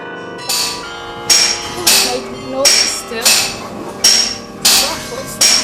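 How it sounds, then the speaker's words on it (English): A big church bell in a bell tower strikes repeatedly, about seven loud metallic clangs at a steady rhythm, each ringing on briefly, heard up close. "That's another chime going on. That's the chime. big bell."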